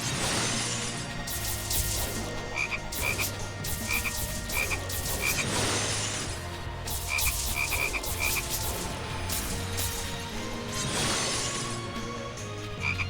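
A whole bunch of frogs croak in the Youmu Hack and Slash game, with repeated loud croaks layered over a dense backdrop of game music and sharp shattering hits, going on steadily with no talking.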